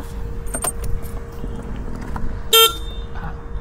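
Honda Activa 6G scooter horn: one short, loud, bright beep near the end, preceded by light clicks and jingly rattles of the handlebar switches at close range.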